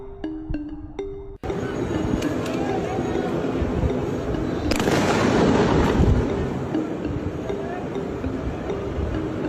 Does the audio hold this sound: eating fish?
no